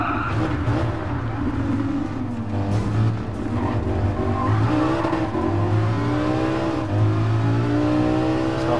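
A Lamborghini Huracan engine drones and revs continuously in Gran Turismo Sport, with shifting pitch from acceleration and a hint of tire noise. It is loud and close, with no speech.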